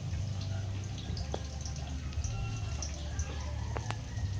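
Water dripping off circuit boards just dipped in water, with a few soft drops over a low steady background hum.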